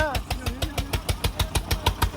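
A tractor engine runs at idle with a rapid, even diesel thumping that stays steady and fairly close, and a voice is heard briefly near the start.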